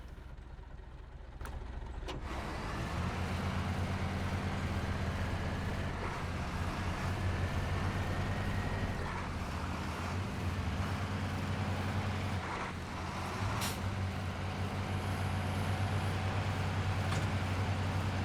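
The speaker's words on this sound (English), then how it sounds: "But it still sounds pretty high revving diesel." A high-revving diesel truck engine in the video game SnowRunner, a loud continuous drone with a steady low hum and a slight pitch rise and fall, running on alone without any talk.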